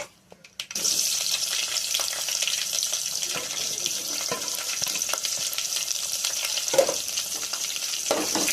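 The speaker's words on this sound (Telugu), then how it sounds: "ఉల్లిపాయ వేసుకుంటున్నానండి" Chopped onion dropped onto curry leaves in hot oil sizzles steadily and loudly for Andhra-style pepper rasam, a continuous bright frying hiss with occasional stirring scrapes, close and without talk.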